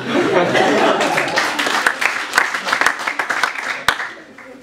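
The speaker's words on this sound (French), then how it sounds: "Là, vous pouvez l'applaudir." Applause from a show audience swells at the start and then breaks into scattered individual claps, with a talking voice and some light laughter mixed in.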